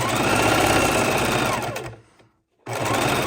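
A sewing machine runs a straight stitch through layered fabric with decorative edging, a fast steady mechanical whir that winds down and stops for a moment of silence before starting up again.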